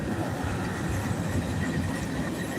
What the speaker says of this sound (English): And this is train number 2.